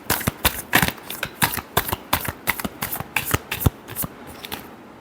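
A deck of cards is shuffled by hand in a steady series of crisp riffling snaps, close and distinct, about a dozen quick bursts with no talking over them.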